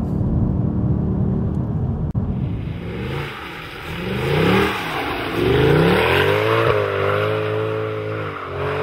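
A powerful Mercedes 6.2-litre V8 engine revs repeatedly, rising and falling in pitch, then climbs through a long acceleration with a deep, loud roar.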